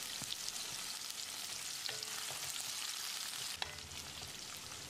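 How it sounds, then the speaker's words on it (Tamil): Onions and garlic sizzle steadily in a hot pan, a constant crackling hiss with a few soft scraping stirs, no voices. "இதோட ஒரு 4 பல் பூண்டையும் சேர்த்து வெங்காயத்தை கண்ணாடி பதத்துக்கு வதக்கிடலாம்"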